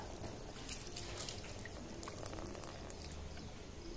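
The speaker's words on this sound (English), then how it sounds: "we are now pouring water on top of it" Water poured onto a Moto E (2015) smartphone lying on a flat surface gives a faint, continuous splashing trickle lasting several seconds, with no talking.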